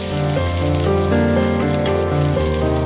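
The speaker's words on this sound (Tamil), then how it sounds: "இப்போ அதே கடாயில் கொஞ்சமாக நல்லெண்ணெய் சேர்த்துட்டு 20 சின்ன வெங்காயம் இப்போ இதில் ஆட் பண்ணிக்கிறேன். அதையும் நல்லா வதக்கி விட்டுக்கலாம்." Small onions fry in sesame oil in a kadai with a steady, dense sizzle. Strong tonal music plays over it throughout and partly masks the frying.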